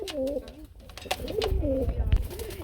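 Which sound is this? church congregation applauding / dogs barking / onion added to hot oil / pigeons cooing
pigeons cooing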